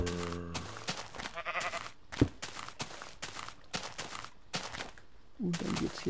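Sheep bleating in Minecraft, short game sounds amid footsteps and other rapid clicks and thumps, fairly faint with a few distinct bleats.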